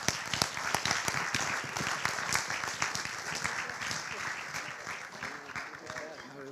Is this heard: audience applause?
yes